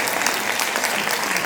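Audience applause at a Diwali celebration, rewarding a children's program: a dense, steady wash of many hands clapping throughout, loud and close, with no voices over it.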